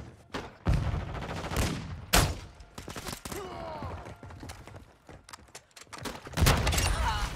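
Gunfire in a Call of Duty: Modern Warfare II deathmatch, loud bursts of rapid automatic fire and sharp single shots in clusters, with short gaps and voices calling out amid the shooting.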